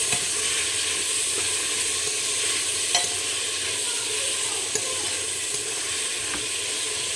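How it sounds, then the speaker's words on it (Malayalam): Sliced onions sauté in a pan with salt and turmeric for chicken biryani, giving a steady close sizzle with occasional scraping clicks from stirring, and no voices. "ഉപ്പും മഞ്ഞൾപ്പൊടിയും കൂടി ഇട്ട് നന്നായി ഇളക്കി വെച്ചാൽ പെട്ടെന്ന് സവാള നമുക്ക് വാടിക്കിട്ടും"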